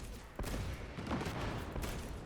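Ranged combat in Space Marine 2, where dense rapid gunfire rattles continuously in quiet, sustained bursts, with a few sharper cracks standing out from the steady barrage.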